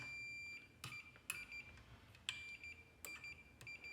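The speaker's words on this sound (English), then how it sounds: "this is just my fluke meter set on beep, so continuity" Continuity beeps from a Fluke multimeter testing ground on a vintage Skilsaw 825 circular saw: several short, high, thin tones at irregular intervals, fairly faint against a quiet room.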